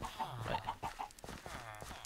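Minecraft chickens cluck in short, repeated bursts against a quiet background, with a few softer calls scattered between them.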